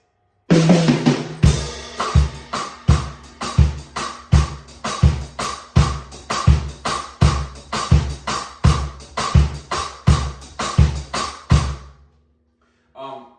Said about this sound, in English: Put on the hi-hat, sounds like this.